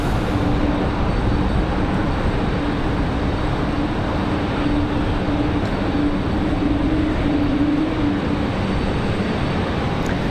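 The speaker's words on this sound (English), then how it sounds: "Sounds like we got another A220 on the move" An Airbus A220 jet moves on the ground at Raleigh-Durham airport on a windy day, a steady broadband engine rumble with a faint droning hum running continuously at even loudness, no voices.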